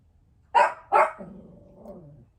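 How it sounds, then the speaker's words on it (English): Dogs bark twice in sharp succession, fairly close, and a lower, drawn-out growling whine trails off after the barks. There is no speech. "I'm not going to edit the dogs because I want you to realize how long the dogs bark"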